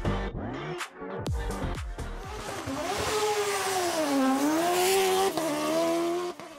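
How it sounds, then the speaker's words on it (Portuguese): Race cars blast up the Serra da Estrela hill climb course, engines revving hard through quick gear changes before a sustained high-pitched wail with tire squeal, loud and close. "Chegou a hora de ligar os motores e vermos os pilotos a brilhar rampa acima."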